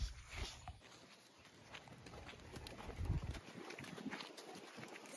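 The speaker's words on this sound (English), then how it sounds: "Little horse. Look at this." A small horse's hooves clip-clop along a road at a walking pace, moderately close, over light outdoor background noise.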